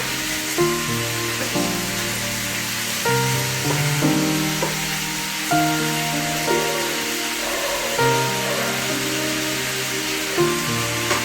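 Chicken for butter chicken fry sizzles in a pan over a high flame, a steady hiss with occasional stirring, playing beneath prominent melodic background music.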